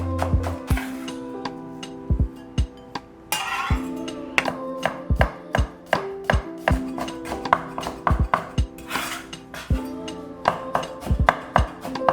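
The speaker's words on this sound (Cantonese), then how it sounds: "將啲葱同埋薑切好備用。" A knife chops scallions and ginger on a board in a brisk, steady series of sharp, close thuds, pausing briefly before resuming, with a faint tonal background underneath.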